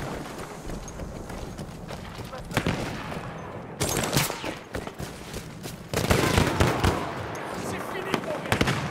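Enemy machine gun fire in a video game rattles in sustained bursts that grow louder and heavier partway through, mixed with battle noise and voices.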